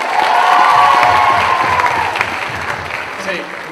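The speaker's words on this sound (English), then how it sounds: "Applause for Cali!" A crowd at a homecoming frolic event claps and cheers loudly, a bright burst of applause with shouts that gradually tapers off over a few seconds.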